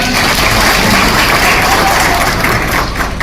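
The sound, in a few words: audience applause at a rally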